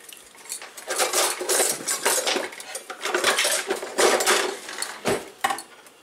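Continuous metallic scraping and clinking of a utensil stirring sauce in a pot, steady and busy throughout, close by with no voices.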